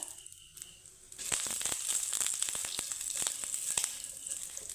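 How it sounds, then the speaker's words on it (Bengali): Curry leaves hit hot oil with black mustard seeds already frying, bursting into a loud, steady sizzle with sharp crackling pops after a short quiet start, continuing unbroken to the end. "এখন দিয়ে দেবো কিছুটা কারি পাতা"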